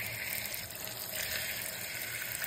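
Steady running water from a tap rinses boiled chicken feet in a kitchen sink, a continuous close splashing flow with no talk.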